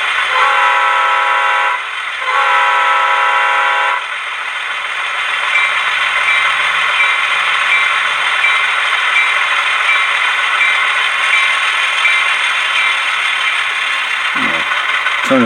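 An Atlas HH660 Alco model locomotive's sound decoder plays a steady, loud diesel engine drone, opening with a couple of horn-like blasts before a continuous mechanical hum.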